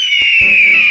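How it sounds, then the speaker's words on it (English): A hawk's call of the type films use for a bald eagle, a single sharp, high, sustained scream heard loud and close, with a brief thump at its start. "That's actually a hawk"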